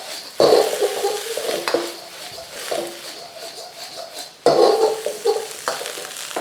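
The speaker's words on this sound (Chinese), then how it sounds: "继续大火翻炒。" A wok tosses egg fried rice with shrimp and chopped scallions over high heat, a spatula scraping and clanking against the metal in uneven bursts, with faint sizzling between strokes.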